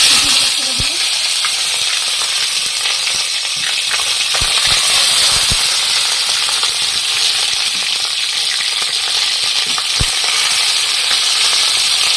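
Cumin seeds fry in hot oil for a long, dense, even sizzle, with a few clinks of a spoon or utensil against the pan and no clear speech.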